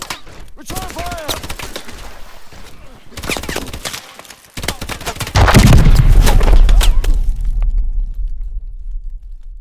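Call of Duty gunfire in New Baghdad, Iraq: scattered sharp shots and bursts crackle close by, then a heavy sustained barrage with a deep rumbling roar takes over and slowly fades, a voice briefly audible early on.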